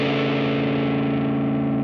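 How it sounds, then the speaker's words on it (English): A sustained distorted electric guitar chord from a Gibson Memphis ES-359 with both pickups on rings out loud and thick, held steadily without a break. "you can use both pickups on and get a good distorted sound"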